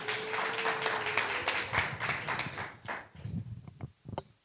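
Scattered audience applause at a health-tech venture capital panel, a modest round of clapping that thins out into a few last separate claps.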